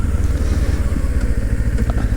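A motorcycle cruising through a residential neighborhood, its engine droning loudly and steadily at an even pace, with wind rumble from close by and no talking.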